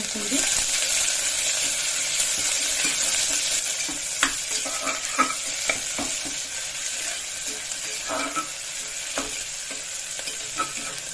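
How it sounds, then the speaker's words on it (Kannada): Onion dropped into a pot with cinnamon, cardamom, cloves, star anise and cumin already in it, frying under a steady broadband sizzle with scattered clinks and stirring taps from a spoon, close and continuous for a methi green peas pulao. "ಈಗ ಈರುಳ್ಳಿ ಹಾಕೊಂಡ್ಬಿಡ್ತೀನಿ ಫ್ರೈ"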